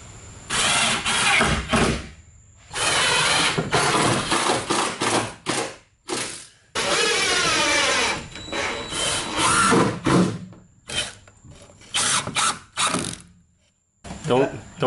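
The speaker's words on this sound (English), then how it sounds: "let's get some screws in it." A power driver sinks screws into a birch plywood ceiling in a bus conversion, loud close bursts of whirring and ratcheting repeated in short runs with brief pauses between.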